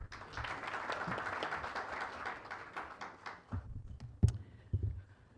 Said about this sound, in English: A round of applause for Chief Guest again.